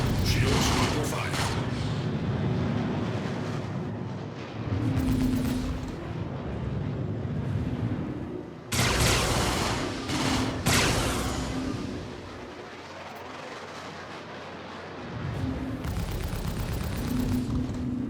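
Star Citizen space combat with gunfire battering a ship's shields: loud, dense bursts of impacts and rumbling blasts that surge and fade in waves, with heavy hits around the middle and end over a constant engine drone.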